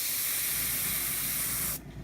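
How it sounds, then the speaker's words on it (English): An airbrush fed by an air compressor sprays blue paint in a continuous hiss lasting under two seconds, then cuts off abruptly, leaving quiet background. "So what I'm going to do is, I got my blue coming out. Here's the back of my hand. Here's the airbrush."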